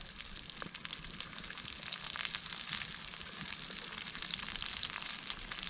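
Chopped onion fries in hot oil in a pan over an open fire for plov, a steady crackling sizzle that holds evenly throughout, close and fairly soft, with no voices.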